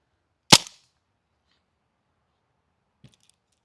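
A gas-powered full-auto Broomhandle airsoft pistol shooting BBs outdoors among trees, one sharp loud crack followed by quiet, with a faint tick a few seconds later.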